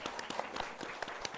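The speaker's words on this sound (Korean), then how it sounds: "우리 이분들께 한번 박수 한번 보내드리겠습니다" A church congregation claps during an anniversary thanksgiving service, a brief, fairly faint patter of distinct hand claps with irregular sharp peaks.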